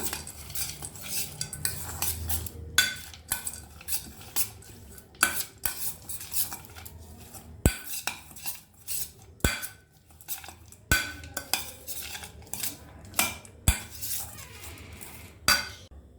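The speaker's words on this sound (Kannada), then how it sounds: "ಈಗ ಇದನ್ನು ಚೆನ್ನಾಗಿ ಮಿಕ್ಸ್ ಮಾಡ್ಕೊಳ್ಳಿ." Spoon scraping and clinking against a bowl while onion, green chili and chickpeas are stirred together for churumuri, a steady run of close, sharp metallic taps and scrapes with no voices.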